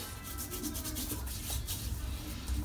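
Shaving cream being rubbed over the face with a brush or fingers, a close, soft, continuous scrubbing and rubbing with faint wet texture and no talking.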